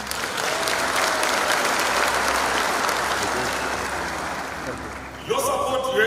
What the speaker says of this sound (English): I was hoping the beneficiaries were going to clap hands for His Excellency.